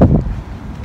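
Outdoor wind buffets the microphone on a hot street, a short low rumbling gust that is strongest at the start and then eases off.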